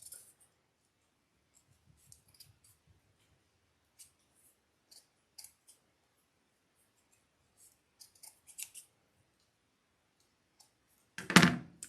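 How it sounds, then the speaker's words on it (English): Scattered quiet snips of scissors cutting the edges of soft felt, irregular and close, followed by a louder rustling thump at the end. "I just start cutting all of these little edges off"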